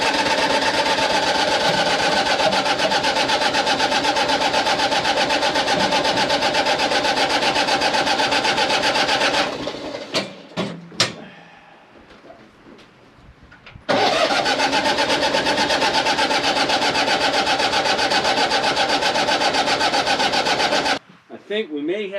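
A large engine cranking and running loud and steady, cutting off briefly into a few clanks and scrapes, then roaring back before stopping near the end; speech is faintly present.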